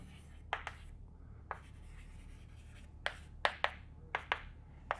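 Chalk or marker taps and scrapes on a board during a French maths lecture on normed vector spaces, a series of short sharp strokes in irregular bursts, close and fairly quiet over a low room hum.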